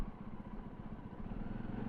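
A motorcycle crawls along a narrow single-lane mountain road near Tehri Lake, its engine a steady low, close drone at slow speed under light road rumble, no voices.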